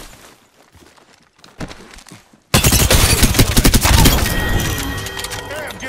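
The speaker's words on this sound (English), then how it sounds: "Hey, I'm getting shot!" Gunfire hits the player in Apex Legends. Quiet game sounds give way to a sudden loud burst of rapid automatic shots and impacts, with chatter and effects layered over it.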